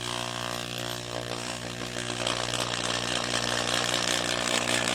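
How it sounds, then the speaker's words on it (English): An electric drill rated about 3 amps runs at slow speed, powered from an ALLPOWERS 600W portable power station; a steady motor whine with harmonic hum holds throughout and grows slightly louder toward the end, with no talking. "So here's a drill."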